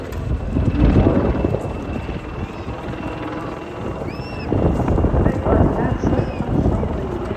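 A Wildcat helicopter at an airshow makes a loud, continuous rotor drone that swells and fades as it passes. A commentator's voice runs over it throughout.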